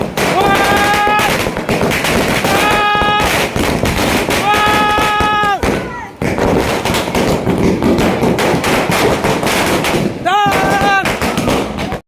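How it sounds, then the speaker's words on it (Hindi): A 60-shot sky shot firework goes off during Diwali celebrations, a loud, dense, continuous barrage of cracking bangs, with excited voices and whistling tones rising above it at intervals. "अभी स्काई शॉट फिर से कितना आवाज वाला है 60 आवाज के स्काई शॉट"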